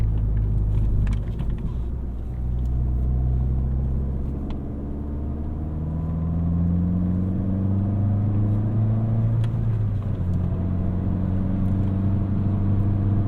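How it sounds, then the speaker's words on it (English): A 2018 Fiat 500 Pop's little 4-cylinder engine pulls hard under acceleration, heard from inside the cabin as a loud, rising drone that climbs through successive gear changes with a steady low road rumble. "Actually sounds pretty decent for a little 4-cylinder here."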